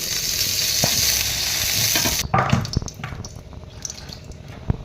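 Oil and a mixed-flour batter for a Marathi dhirde pancake hiss loudly on a hot pan for a couple of seconds, then the sound cuts to quieter clatter and light sizzling.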